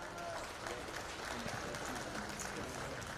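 An audience at a junior livestock show for heifers and steers gives a round of applause, a faint, distant wash of scattered clapping held steady throughout.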